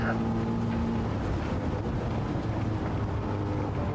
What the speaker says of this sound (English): We decided to stay in second longer to get this engine wound up.